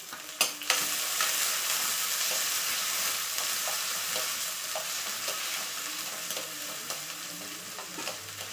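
Chopped onion and curry leaves fry in hot oil in a pan for a brinjal palya, giving a continuous bright sizzle with occasional sharp pops and stirring clatter.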